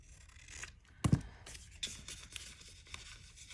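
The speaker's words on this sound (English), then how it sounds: "I'm going to trim off these white edges" White edges being trimmed off paper for a junk journal pocket, a soft scraping cut with one firmer snip near the middle, quiet and close with no talking.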